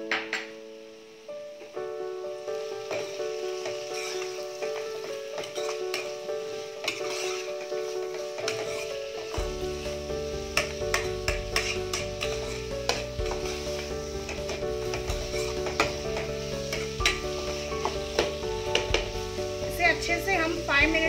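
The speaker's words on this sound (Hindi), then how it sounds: "अच्छे से हम 5 मिनट्स तक कुक करेंगे जब तक कि ये टमाटोज पूरी तरीके से कुक हो जाए, गल जाए।" Tomatoes with salt and Kashmiri red chili powder sizzle in a pan for Paneer Butter Masala, with stirring scrapes and a close, steady frying hiss under continuous background music.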